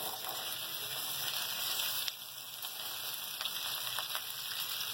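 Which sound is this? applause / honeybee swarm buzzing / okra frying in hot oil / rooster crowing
okra frying in hot oil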